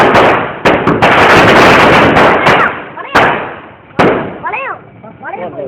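Several sharp firecracker bangs go off close by among crackling bursts, with whistling tones rising and falling between the blasts.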